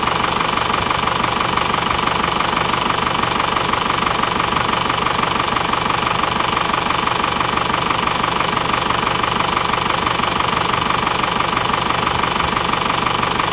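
Warmed-up Isuzu Panther diesel engine running steadily, a loud continuous rattling clatter held close for the whole stretch without letup.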